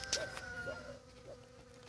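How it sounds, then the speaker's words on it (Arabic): Bees buzz around flowers as they pollinate them, a thin droning hum that wavers in pitch, close and fairly quiet in open countryside. "سمعوا الصوت ديال النحل"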